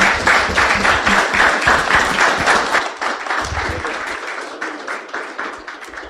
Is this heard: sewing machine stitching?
no